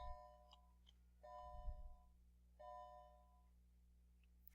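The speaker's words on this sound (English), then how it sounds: "Sorry, that was a bell." A school bell rings in a classroom, several tonal chimes spaced a few seconds apart, moderately faint over a low background hum, with no speech.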